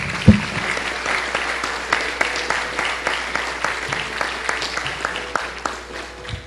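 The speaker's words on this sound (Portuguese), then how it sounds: "com uma salva de palmas" A church congregation at an evangelistic service bursts into applause, a dense, sustained clapping with a steady rhythmic pulse that carries on for several seconds without speech.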